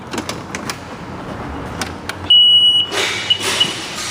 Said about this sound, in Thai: นี่คือกุญแจดอกจริง จะร้องติดติดนะครับ